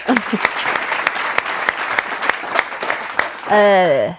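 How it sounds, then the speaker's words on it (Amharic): Studio audience clapping at an Ethiopian television talk show, a run of fairly regular, distinct handclaps before a voice starts speaking near the end. "እዚህ ጋር ጭብጨባ ያስፈልጋል።"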